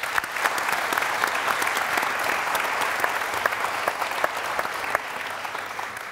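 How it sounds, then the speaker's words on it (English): Steady applause from an audience at a food and agriculture forum panel fills the whole stretch, a dense patter of many hands clapping at an even level. "deserve a small round of applause"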